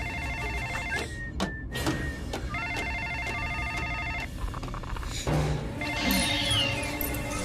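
A telephone rings in a LEGO Jurassic World animated film, with repeated tonal ringing bursts among electronic beeps and a busy layered background throughout.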